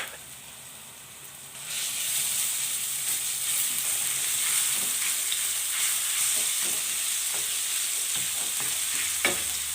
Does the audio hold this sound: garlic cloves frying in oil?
yes